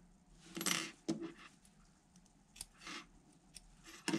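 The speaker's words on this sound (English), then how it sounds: "now we're going to cut the yarn" Quiet metallic snips and clicks of scissors cutting yarn during crochet work on yoyo fingerless gloves, a few light close cuts and handling sounds.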